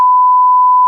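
A timer beeps with one steady, loud electronic tone that holds for nearly a second before cutting off sharply, with nothing else around it.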